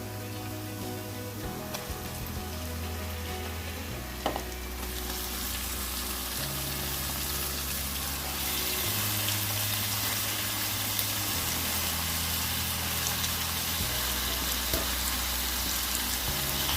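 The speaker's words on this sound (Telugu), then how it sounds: "ఇప్పుడు మనం ముందుగా క్లీన్ చేసుకున్న చికెన్ యాడ్ చేసుకోవాలి." Chicken pieces sizzle and fry steadily in a hot pan for a mango curry, with a stir partway through and constant crackling that grows slightly louder later on, and no voices.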